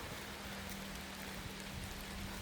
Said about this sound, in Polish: Mocno pada.